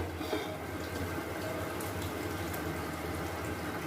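Pomfret fish curry, cooked with poppy seed and cashew, simmers in a pan with a steady, continuous bubbling hiss that stays close and even throughout, with no voices.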